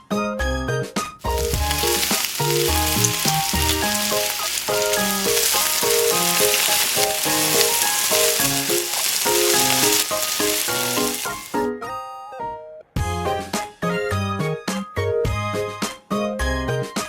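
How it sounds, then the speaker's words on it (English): Shrimp fry in a hot pan with a dense, continuous sizzle under loud background music, the hiss briefly dropping away before resuming. "season it with some soy sauce and fry the shrimp"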